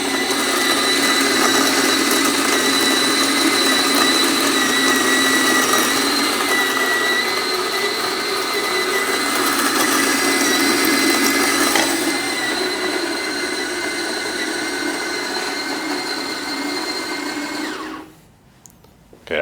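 A Fellow Opus coffee grinder grinding espresso beans runs as a loud, steady, close whirring buzz for about eighteen seconds. The pitch lightens partway through, and the grinder then stops abruptly.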